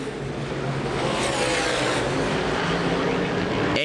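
Modified stock race cars in the USA Modified Series roar past at Winchester Speedway, a loud, sustained engine drone that swells as the pack flashes by, with commentary faintly underneath.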